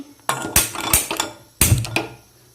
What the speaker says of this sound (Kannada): ಒಲೆ ಮೇಲೆ ಪಾತ್ರೆ ಇಟ್ಕೊಂಡಿದ್ದೀನಿ.